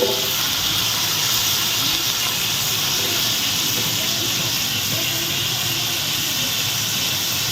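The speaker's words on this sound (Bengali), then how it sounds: "এবার এগুলো ভালো করে ভেজে নেব।" Chopped onion, chili and tomato frying with chicken in a pan, heard as a steady, loud hiss of sizzling oil that holds evenly throughout, close and with no voices over it.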